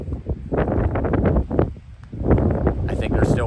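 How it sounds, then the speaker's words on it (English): Strong wind gusts roar across the fog-socked summit of Goose Eye North in Maine on the Appalachian Trail, buffeting the microphone in uneven surges with a brief lull midway. "Again, really windy and all socked in."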